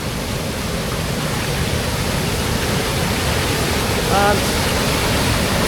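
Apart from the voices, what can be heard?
waterfall flowing into a pool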